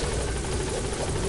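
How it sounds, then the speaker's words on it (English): Helicopter in the video game Metal Gear Solid V, a loud, constant rotor drone with a steady buzzing thrum filling the brief moment. "you put him in the helicopter"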